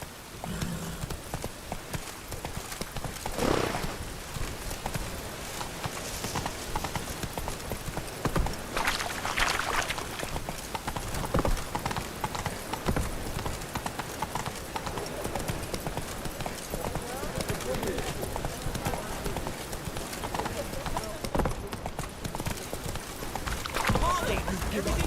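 Horse hooves pound steadily at a gallop in The Witcher 3, a fast continuous clip-clop over ambient game sound, with someone talking over it at times.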